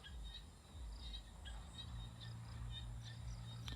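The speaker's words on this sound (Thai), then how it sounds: "เสียงกบเสียงเขียดครับ" Frogs croaking outdoors at night near a house in rural Thailand, a faint steady chorus of repeated calls and chirps blended with insect noise, no talking.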